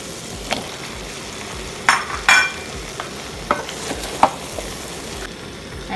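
Butternut squash pieces sizzle steadily in a hot pan of mushroom mixture, with a few short, sharp scrapes and clicks of stirring scattered over the continuous frying hiss; no one speaks.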